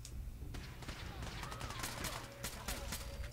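Gunners firing at one another in Fallout: a steady crackle of distant gunfire with scattered sharper shots, heard under a low background hum.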